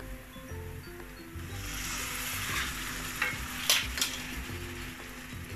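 Chicken liver and gizzard adobo with soy sauce, pepper and paprika sizzles and fries steadily in a pan while being stirred, with a few louder scrapes and clinks of the utensil against the pan.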